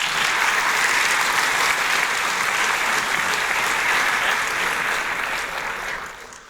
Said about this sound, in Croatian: Molim vas jedan ogroman aplauz za Ivicu Puljka.